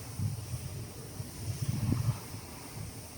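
Low, rumbling wind buffeting a microphone at a carp fishery in the English fens, steady and fairly loud throughout with gusty swells, no voices.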